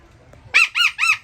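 A pet bird lets out three sharp, loud squawks in quick succession, close by, after a brief quiet moment.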